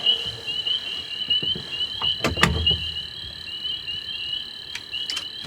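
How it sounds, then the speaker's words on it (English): Frogs croak at night in a dense, continuous chorus of shrill trills, with a few sharper, louder calls standing out nearby above the steady din. "These frogs are going crazy tonight."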